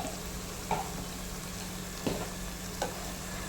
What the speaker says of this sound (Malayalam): ഈ ഉള്ളിക്കകത്തും തക്കാളിയിലും എണ്ണയിലും കിടന്ന് നല്ലപോലെ ഒന്ന് മൊരിയണം